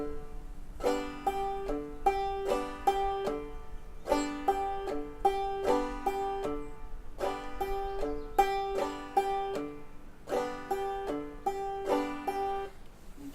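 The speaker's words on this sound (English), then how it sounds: "the second time through the basic clawhammer stroke on the 4th string, we make it a double thumb" Banjo played clawhammer style, the thumb striking the 4th string twice per stroke in a double-thumb pattern, giving steady repeated bright plucked phrases with a muted tone, played alone without talk.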